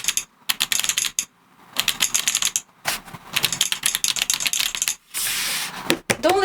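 Typing on a ROCCAT Vulcan 120 AIMO mechanical keyboard produces rapid bursts of loud, close key clacks separated by short pauses, with a brief sustained whir near the end.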